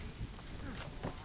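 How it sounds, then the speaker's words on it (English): Steady rain hisses in the video game Assassin's Creed Rogue, with a low rumble of thunder beneath it, faint and very brief. "I love the sound of the thunder and everything."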